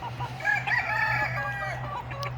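A rooster crows among a flock of roosters and hens, the long cock-a-doodle-doo rising and falling over a steady low hum, with soft clucking around it.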